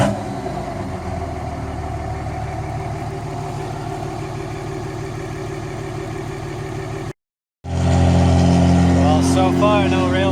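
A Cummins diesel truck engine idles steadily while warming up, a continuous low rumble throughout, broken by a brief dropout near the end, after which the idle returns with some faint higher sounds over it.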